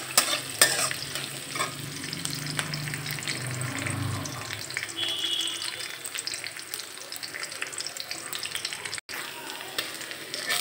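Ingredients for Chinese fried rice browning in hot oil: a steady close sizzle with occasional stirring scrapes running throughout, no talking.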